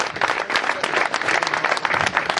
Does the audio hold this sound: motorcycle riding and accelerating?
no